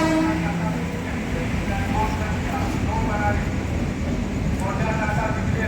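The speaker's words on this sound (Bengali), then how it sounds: "সায়ন ট্রেনে তুলতে যাচ্ছে।" Passenger train standing at a station on the Chittaranjan to Kolkata route, with a steady low rumble of engine and carriages, a faint distant horn, and station bustle and voices talking throughout.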